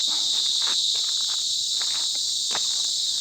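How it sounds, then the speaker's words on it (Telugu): Dense, steady high chirring of insects fills a forest near a hill, loud and continuous throughout, with faint scattered rustles underneath and no voices. "నాకు ఈ నాయిస్ తప్ప అంటే ఈ క్రిమి కీటకాలు అంటారని ఇన్సెట్స్ నాయిస్ తప్ప ఇంకేం లేదు"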